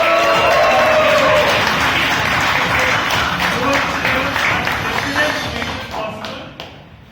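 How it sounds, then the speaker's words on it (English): Loud, sustained applause from a Toastmasters meeting audience that gradually fades out toward the end. "Huge round of applause."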